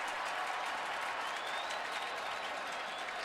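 A large stadium crowd at an NFL game between the Miami Dolphins and Indianapolis Colts roars and applauds in a steady, dense wash of cheering that holds evenly throughout, distant and broad.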